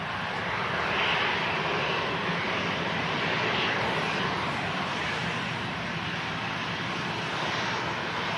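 A Transavia jet in retro livery at Manchester Airport produces a steady, moderately distant engine roar that stays even and unbroken, with no voices.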